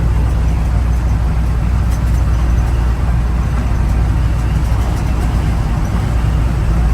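A 1971 Ford F100 pickup cruising down the road at about 60 mph gives a steady, loud low engine drone with constant road and wind roar, unbroken for the whole stretch with no talking.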